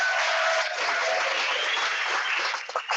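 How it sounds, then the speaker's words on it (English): Audience applause rolls through a conference welcome session, a dense even wash of clapping that thins and breaks up toward the end. "one more time, please clap for"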